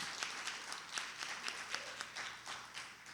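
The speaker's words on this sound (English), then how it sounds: "can we give our professionals a round of applause for giving us great feedback?" A group claps in a round of applause for professionals at a presentation session, the claps soft and distant but continuous, with a few sharper hits scattered across the stretch.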